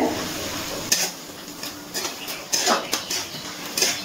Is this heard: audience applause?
no